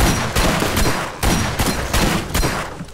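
Shotgun blasts in the video game Borderlands, a run of loud, close booming shots spaced roughly every half second to second, each with a brief decaying tail, no talk over them.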